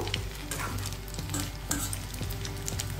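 Steamed cauliflower florets fry in hot oil in a pan, a steady close sizzle and crackle with occasional stirring scrapes and clinks running throughout.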